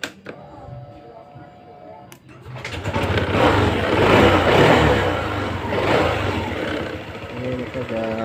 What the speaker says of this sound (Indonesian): Ya langsung aja kita coba hidupkan motor.